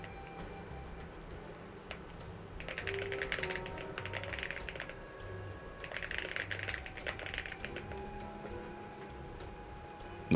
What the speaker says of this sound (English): The keyboard sounds like this.